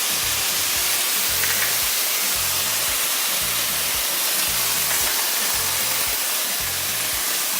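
Peas and onion fry in caramelized sugar in a Trinidad-style pan dish, giving off a loud, steady, dense sizzle. A faint rhythmic thumping sits beneath it.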